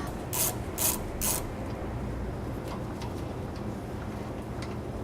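A wrench ratchets in three quick, distinct bursts while loosening a sway bar end link nut on a 2017 Jayco Redhawk motorhome. The clicks are close and crisp over a steady background hum.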